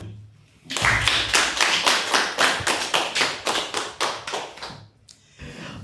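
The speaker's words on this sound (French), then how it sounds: "Ensemble, acclamons Monsieur Mvula." Office staff applauding Monsieur Mvula indoors: a burst of rhythmic group clapping starting abruptly, steady and fairly loud for about four seconds before fading out.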